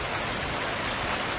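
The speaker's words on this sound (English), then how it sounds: "It's raining again." Steady rain hisses down outdoors during front strut work on a 2010 Nissan Versa, a dense, even wash of drops with no break.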